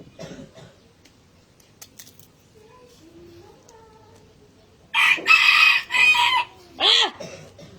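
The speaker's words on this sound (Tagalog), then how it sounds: "hindi na nagtigil yung manok kakatataraok." A rooster crows up close at a rural Philippine home, with several loud, harsh calls in the second half following a quieter stretch of faint background sounds and soft voices.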